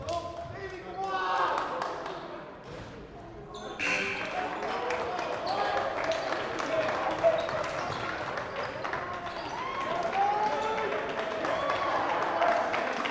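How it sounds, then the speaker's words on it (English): Crowd applause at a Colorado School of Mines NCAA Division II regional basketball game, a spread of clapping and cheering from the arena under a commentator talking, with a louder swell partway through. "There you hear the round of applause for Colorado School of Mines as they will come off the floor"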